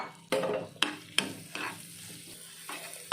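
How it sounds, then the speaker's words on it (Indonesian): Garlic sautés in melted margarine in a Teflon pan, a close, steady sizzle broken by several sharp scraping stir strokes, with no voices. "Kita tumis sampai harum."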